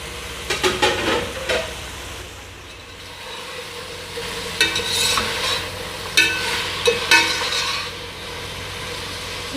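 Masala for chicken pulao fries in a pot with bursts of sizzling and scraping stirring strokes, clustered near the start and again in the second half over a steady background hiss.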